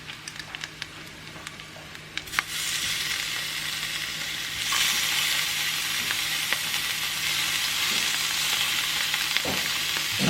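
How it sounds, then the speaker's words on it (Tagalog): Thin slices of beef fry in a pan with a steady, close sizzle that swells louder about halfway through and then holds, broken by a few faint clinks of utensils. "Kasi ipiprito din natin yung beef."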